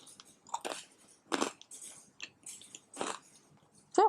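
Bites into crunchy naan pizza topped with BBQ chicken and cheese, giving several crisp, close crunches and chewing sounds in irregular bursts, with a brief vocal sound at the end.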